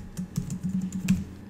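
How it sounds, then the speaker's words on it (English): A computer keyboard is typed on quickly at close range in a short burst of light, rapid key clicks. "So we're going to type in phaser."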